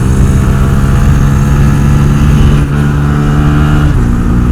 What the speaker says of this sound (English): Full throttle on the Grom.